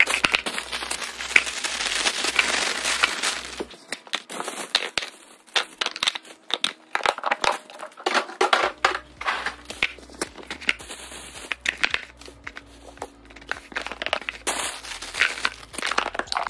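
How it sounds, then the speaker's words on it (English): Paper towel crinkling and rustling as it is pushed into a plastic vegetable storage container in a kitchen, with a close, irregular series of crunchy crackles that continue throughout and no speech. "So I just like to put some paper towel in there to help with any condensation."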